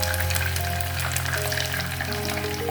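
Chicken pieces and egg deep-frying together in hot oil over medium-high heat, a dense, steady crackling sizzle that stays loud and close throughout with no voices.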